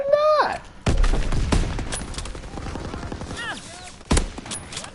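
Two sharp, loud sniper rifle gunshots in a PlayStation 4 shooter, one at the start and one near the end, each with a booming tail, over game noise and faint background chatter.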